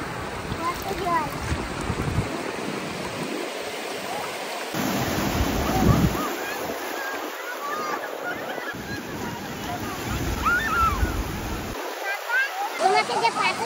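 Sea water and waves at a seaside picnic spot: a steady broadband rush of surf mixed with wind buffeting the microphone, with voices faintly audible under the noise.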